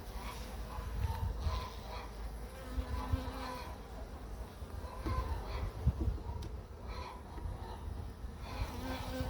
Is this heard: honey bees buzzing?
yes